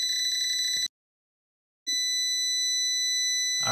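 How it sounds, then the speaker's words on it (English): Inverter low-battery alarm on a 12V 100Ah GRENERPOWER LiFePO4 battery setup, giving a loud, piercing high electronic tone that sounds for about a second, stops for a second, then sounds again steadily. "That's just the low battery alarm going off right now."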